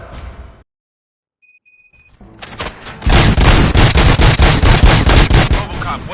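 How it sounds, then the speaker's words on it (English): Rapid automatic gunfire erupts in RoboCop: Rogue City, a loud sustained fusillade of closely spaced shots following a brief silence, a few beeping electronic tones and some scattered thuds. "Gunshots? What's going on?"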